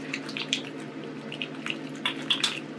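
Tap water runs steadily into a sink during a skincare routine of washing hands and face, with soft splashes and drips breaking through the flow now and then, close and fairly quiet.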